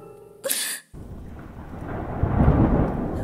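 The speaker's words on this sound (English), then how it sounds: "Ah, perfect! Just perfect! It's raining!" Steady rain hisses and patters close by, rising slightly in intensity, after a brief sharp noise and a moment of near silence at the start.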